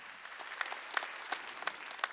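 A congregation claps at a Korean church's Wednesday worship service, with faint, distant applause and a few sharper claps rising at a loose, roughly even beat.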